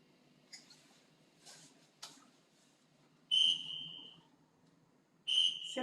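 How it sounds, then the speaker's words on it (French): Two sharp, shrill whistle blasts a couple of seconds apart mark time in an exercise class, following a few quiet taps and knocks in a calm room. "Au deuxième coup de sifflet, on s'arrête."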